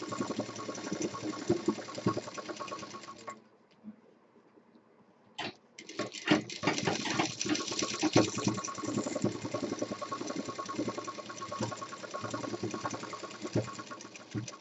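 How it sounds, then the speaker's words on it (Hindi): Close, steady whirring of a sewing machine stitching the side of a cushion made from waste fabric, running continuously, pausing for a couple of seconds, then resuming at a brisk, even pace. "अब इसमें हम ये तीसरी साइड भी सिल देंगे"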